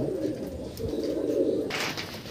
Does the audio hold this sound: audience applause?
no